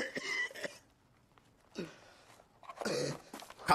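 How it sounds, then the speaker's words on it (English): A man coughing badly in a recording, heavy and wet, in three separate harsh bursts with quiet gaps between them. "Coughing with a vastly worse cough than he had earlier."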